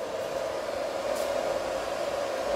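A 3 hp solar-powered BLDC submersible pump motor runs continuously, a steady close electrical hum with a strong even tone and no talk over it.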